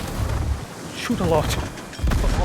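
Heavy naval guns on the battleship Stalingrad in a naval combat game, firing in low, booming salvos at the start and end, with someone talking over them in between.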